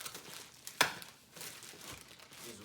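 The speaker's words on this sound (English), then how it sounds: "Just rip it right open." Sneaker box packaging is torn open by hand, with a sharp rip and scattered crinkling and rustling of cardboard and paper at close range.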